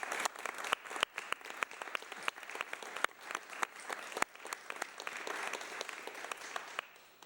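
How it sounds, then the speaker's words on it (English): A conference audience at a municipal health insurance consortium retreat claps for the presenters, dense steady applause lasting the whole stretch and tapering slightly at the end, heard at moderate distance. "I'd like to ask you to applaud our presenters"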